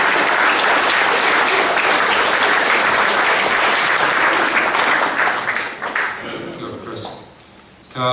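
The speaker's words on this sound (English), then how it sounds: "let's give him a round of applause" Loud, sustained applause from a school prizegiving audience carries for several seconds, then fades out toward the end, giving way to quieter room sound.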